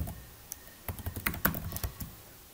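Computer keyboard typed on while entering assembly code in the EMU8086 emulator: a quiet, irregular run of key clicks, sparse at first and then denser, with no talk.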